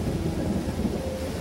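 Heavy rain and thunder on a stormy night, a dense steady wash of downpour with low rumbling running through it, no voices.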